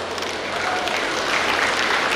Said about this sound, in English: So please give yourselves a great round of applause, family members.